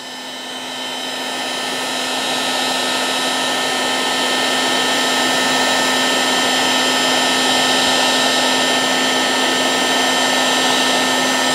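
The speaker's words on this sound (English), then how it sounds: "So then we'll take our heat gun, focus it over on this area." A heat gun blows hot air in a steady, loud electric whir with a constant motor hum, rising briefly at the start and then holding for the rest of the time, with no voices.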